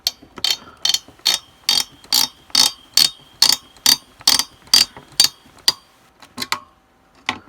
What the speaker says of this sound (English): You will get some grinding noises, those are natural, and that is just because of the springs on the screws